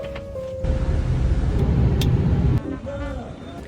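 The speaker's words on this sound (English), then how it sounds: "And that must be my bus home" A city bus pulls up on a street in Lille, its low engine rumble building and swelling over about two seconds amid traffic noise, with a brief brake squeal; a voice talks over it.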